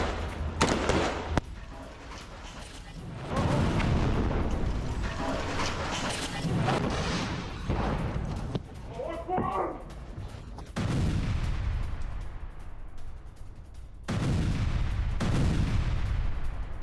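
An RPG attack on a tank in Gaza, fired from a house rooftop, comes through as several loud blasts and crackling gunfire bursts separated by short quiet gaps.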